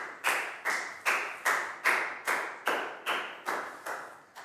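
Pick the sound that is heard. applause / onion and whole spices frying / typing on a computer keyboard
applause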